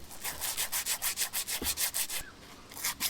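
Steady back-and-forth scrubbing strokes work rust off a bearing on a Ferris IS 3000 zero-turn mower. Regular abrasive swishes come about three per second, close and fairly loud, with a brief pause near the end and no talking.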